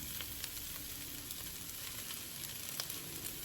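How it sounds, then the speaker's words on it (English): Balsamic vinegar hitting a hot pan while cooking egg rolls with collard greens: a steady, dense sizzle with fine crackling pops throughout, close and continuous. "Then I'm gonna put a little bit of balsamic vinegar in here"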